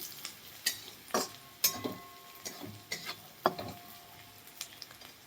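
Coarsely crushed peanuts being stirred into onions frying in a pan for a bhakri chivda, sparse soft sizzle under a handful of sharp spatula clinks and scrapes against the pan.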